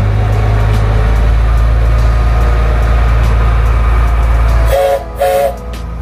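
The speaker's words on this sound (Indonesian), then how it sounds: "kereta api sudah jalan." A train rumbles loudly and steadily close by at Goldfield Ghost Town, Arizona, then the roar drops away and two short horn blasts sound near the end.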